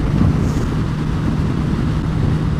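A Suzuki GSX-S1000F motorcycle cruising at 70 mph below 5,000 rpm in sixth gear gives a steady, dense low rumble buried in heavy wind rush, with no talk.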